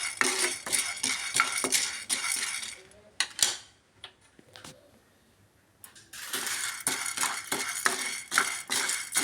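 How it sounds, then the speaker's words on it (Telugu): Chana dal frying and being stirred in a pan, with a spoon scraping and clinking against the metal in quick bursts that fade out near the middle for a couple of seconds, then resume just as busily. "నెక్స్ట్ అలాగే శనగపప్పు వేసేసానండి. సో దీన్ని కూడా సేమ్ అలాగే బ్రౌన్ వచ్చిందాక వేయించుకోవాలి."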